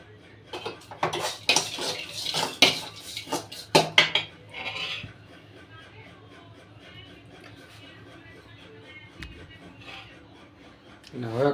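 A utensil clatters and scrapes loudly against a pan as a snack is stirred after lemon is squeezed over it, a burst of metallic knocks in the first few seconds, then quieter faint sounds with a brief late clink.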